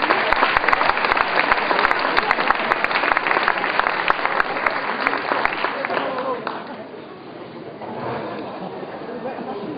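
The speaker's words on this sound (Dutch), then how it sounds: "een applaus voor de laatste kandidaat van vanavond, Dries van Zandt." Applause from a comedy show audience in Bruges greets the evening's last contestant, dense clapping for about six seconds that then thins and fades into a quieter room murmur.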